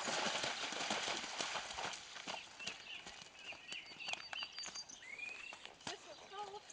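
A horse walking outdoors, steady rhythmic clip-clop of hooves close by, with birds chirping in the background and people talking over it.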